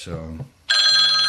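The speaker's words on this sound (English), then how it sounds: "Phone's ringing." A telephone rings indoors during a live question-and-answer broadcast, one bright, sustained electronic ring breaking in after a short spoken word, loud and close.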